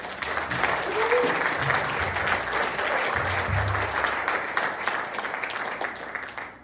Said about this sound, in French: Un bon tonnerre d'applaudissements pour Jake!